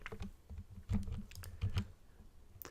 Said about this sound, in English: if you hit the Alt key on your keyboard